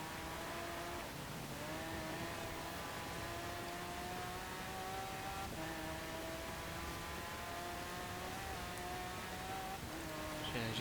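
Continuous engine drone of an all-wheel-drive Lamborghini Sesto Elemento race car in Forza Horizon 4, pitch climbing steadily through the gears with brief dips at shifts, loud and steady throughout.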